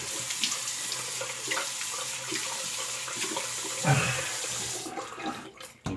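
Water runs from a tap while a shaving brush is rinsed, a steady close splashing flow that breaks up briefly near the end.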